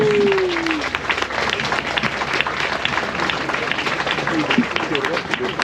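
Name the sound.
audience applause at surf bar end-of-season party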